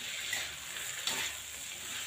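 Long beans frying in a pan with sweet soy sauce, salt, sugar and seasoning, giving a steady close sizzle with soft stirring scrapes throughout.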